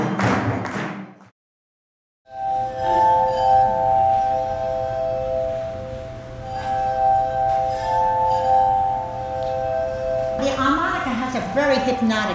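Sustained glassy tones from a glass harmonica ring out in a smooth, ethereal drone, steady and close, with a brief voice before and a shift in pitch near the end.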